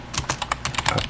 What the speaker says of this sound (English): So first thing you type in is sudo apt